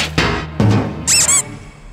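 Cartoon squeaks from an animated construction-rescue show: two bright, warbling high-pitched squeaks in quick succession, loud and clear, following a few dull thumps and clanks.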